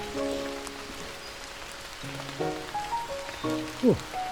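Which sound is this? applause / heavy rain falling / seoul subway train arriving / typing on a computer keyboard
heavy rain falling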